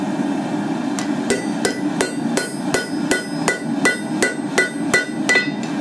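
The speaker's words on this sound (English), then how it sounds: "give it a few notches, punches" Hammer blows on hot steel while forging tongs, about fourteen sharp ringing strikes in a steady rhythm, loud and close, over a constant low roar of the forge.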